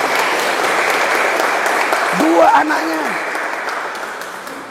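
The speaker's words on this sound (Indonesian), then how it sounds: "Berikan sorak-sorai buat Tuhan yang dahsyat luar biasa." A church congregation applauds and cheers during a sermon at an army brigade barracks, a steady wash of loud clapping that lasts the whole moment and slowly fades at the end, while a preacher's voice rises over it.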